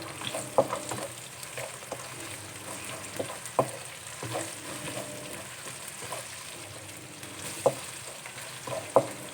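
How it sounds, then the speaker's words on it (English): Ginger garlic paste is stirred into a sizzling pan for chicken curry, with a steady frying hiss and a few sharp clinks of a spoon scraping the pan at irregular intervals. "I'm adding in just a teaspoon of ginger garlic paste. Mix it well."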